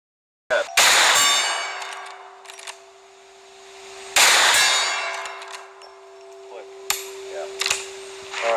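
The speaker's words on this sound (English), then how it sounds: "You hear that gong?" Steel gong target struck by gunshots, three loud sharp impacts each followed by a long bright metallic ring that slowly fades, plus a couple of smaller clicks, heard outdoors at a shooting range.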